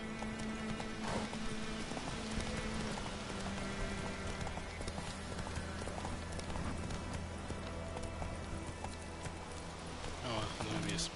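A horse's hooves clop steadily in The Witcher 3: Wild Hunt, a rhythmic trot mixed into a busy bed of game music and ambience, moderately loud, with a voice talking over it.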